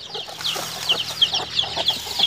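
Mother hens on a backyard farm with native chickens give a steady run of soft, repeated clucks, fairly close and at moderate volume, with no talking.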